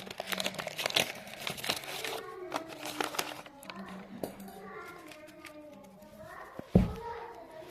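Football card packs are torn and crinkled open, with sharp foil rustles and rips in the first seconds, then someone talks over softer handling and a thump near the end.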